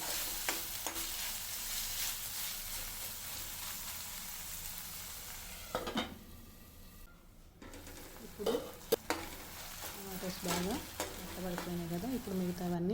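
Tomatoes cooking down in a pan, a low sizzle with intermittent stirring scrapes and a few sharp clinks of utensil on metal, fairly quiet and close.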